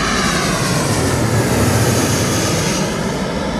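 A big American Airlines airliner arriving from Los Angeles thunders overhead at London Heathrow, its engines a dense, loud, sustained roar heard close with no talking.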